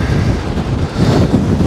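Strong storm wind on the Anapa coast roars steadily into the microphone as loud, continuous buffeting noise with no voices.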